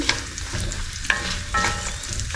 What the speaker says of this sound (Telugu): ఇప్పుడు ఇందులో కొంచెం ఫ్రై చేసేసుకొని కొంచెం కొబ్బరి వేగాక